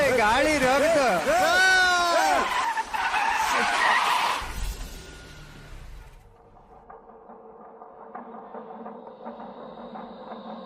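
Car tires skidding as a vehicle brakes hard to a stop, a loud screech that fades after a few seconds, with shouting voices over it and a low rumble trailing off.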